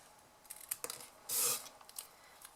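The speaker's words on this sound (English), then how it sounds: "is your scissors just to cut in those little angles." Scissors snip little angled cuts while a penguin-themed mug is being decorated, with a few crisp, close clicks and one longer, brighter slicing rasp midway through a quiet room.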